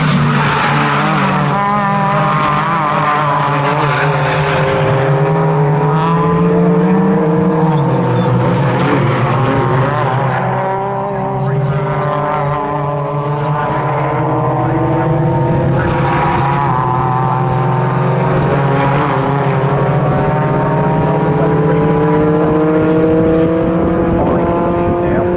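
Ford Fiesta race cars in a BRSCC Fiesta Junior Championship race at Snetterton circuit roar past in a pack, loud continuous engine drone with rising and falling pitch as gears change, close by, with faint commentary underneath.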